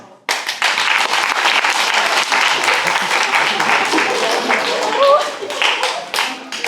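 Dense audience applause and clapping at a live comedy show fills the whole stretch, steady and loud after a brief quiet start, with a short whistle-like tone near the end.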